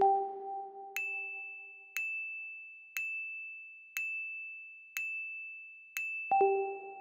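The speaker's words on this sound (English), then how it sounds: "Version 2 is essentially the same thing, except that it has this little radar ping with the sound effect." A radar ping sound effect from a video title template repeats at a steady pace of about once per second, each ping a bright, clean tone. A soft hum sounds before the pings start and returns briefly at the end.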